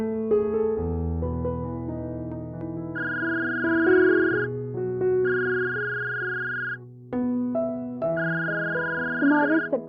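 A telephone rings with a melodic electronic ringtone in three repeated bursts over a steady musical backdrop, indoors in a home.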